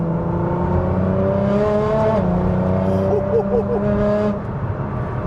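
A Nissan GT-R R35 accelerates hard, loud and close, its engine note rising smoothly through the gears with a whining, climbing tone.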